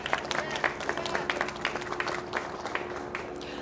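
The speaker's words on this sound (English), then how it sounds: "a big round of applause" Crowd applause at an official press conference with a sheriff, a few seconds of distinct, close clapping with scattered sharp hand claps over a low background murmur.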